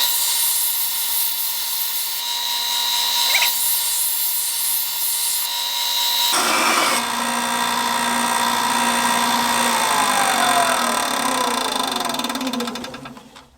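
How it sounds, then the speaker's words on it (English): A vintage Swedish axe head is ground on a grinding wheel for a convex edge, a loud continuous abrasive whine and hiss throughout, shifting in pitch partway as pressure changes, then cutting off at the end. "there's a spot right here between this flat part and the wheel that is going to allow me to get more of a convex grind onto this"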